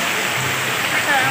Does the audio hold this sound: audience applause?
no